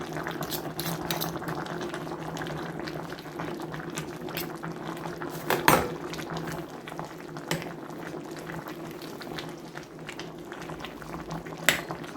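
A pot of pumpkin chicken soup bubbles at a steady simmer, a continuous soft boil with a few brief clinks and knocks, close and fairly quiet.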